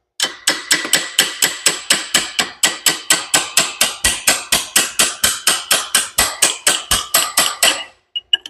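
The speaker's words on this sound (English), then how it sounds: "It's a hammer." Rapid, evenly spaced hammer blows ring out sharply, roughly four strikes per second for about eight seconds, then stop.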